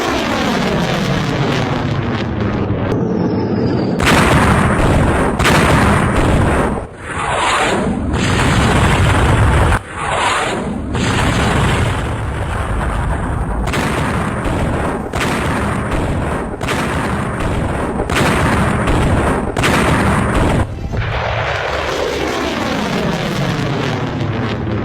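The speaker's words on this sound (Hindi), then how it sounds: "इस्कंदर मिसाइल निकल रही है और इस्कंदर से पलटवार किया है।" A Russian Iskander missile launching, heard as a loud, sustained roaring rumble that lasts for many seconds with several sharp booming bursts and wind buffeting; no voices.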